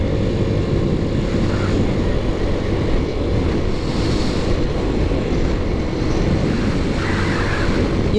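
A 1984 Yamaha Riva 180 scooter cruising at around 50 miles an hour, heard as a steady, loud roar of engine drone and rushing wind buffeting the microphone, unbroken throughout.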